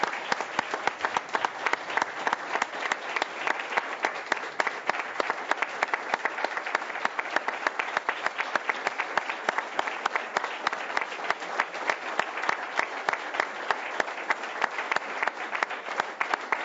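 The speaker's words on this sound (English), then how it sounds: "One last round of applause for this year's Justice Prize recipients." A large audience at the 2007 Justice Prize ceremony applauds the award recipients, a dense and steady wall of clapping that carries on loud and unbroken, with no voices standing out.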